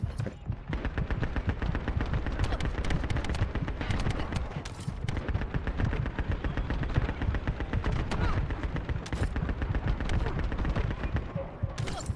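Sustained rapid automatic gunfire from the shooter game The First Descendant, a loud, dense stream of shots that runs almost without a break, with a few heavier bursts mixed in.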